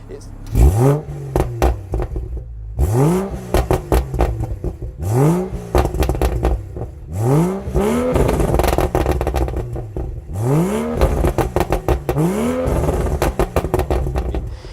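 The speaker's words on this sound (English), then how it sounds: "I think it's had a couple of bits done to the exhaust, crackles and pops" A BMW 435i M Sport convertible (F33) with N55 engine and modified exhaust revs repeatedly in short bursts, each rise followed by sharp crackles and pops from the exhaust, loud and close, with no talking.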